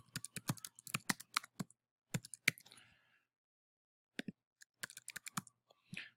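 Typing on a computer keyboard, quiet close key clicks in quick bursts, with a pause of more than a second before a sparser run of keystrokes resumes.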